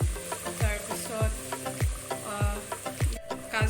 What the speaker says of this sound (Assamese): কাজু, মটৰ আৰু খিচমিচ, আৰু এইখিনি ভাজি আছোঁ।